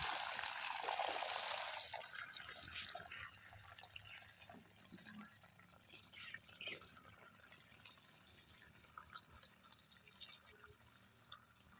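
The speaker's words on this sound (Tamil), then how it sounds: "தண்ணீர் ஊற்றி கொள்கிறோம்" Water poured into a container to mix a pesticide spray solution for jasmine farming, a faint steady splashing and trickling that is strongest at first and then settles into a soft continuous flow.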